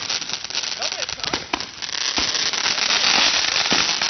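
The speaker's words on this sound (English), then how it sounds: "Robert, where'd you get his fireworks?" Consumer fireworks from a Fourth of July backyard display crackle and pop continuously, with several sharper bangs standing out over a steady fizzing roar, loud and close, while people shout excitedly.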